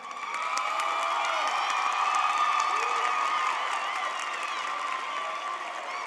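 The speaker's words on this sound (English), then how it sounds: "have everyone who's a parent, guardian, or family member that contributed to this graduation stand up for a round of applause" Applause and cheering from the audience at a school district graduation ceremony, a continuous crowd wash with whoops and children shouting over steady clapping, moderately loud throughout.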